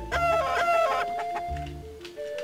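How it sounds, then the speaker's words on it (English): Cartoonish chickens cluck and crow in the video game Mogeko Castle, several repeated fowl calls sounding close and clear over a steady musical tone. "There's chickens everywhere."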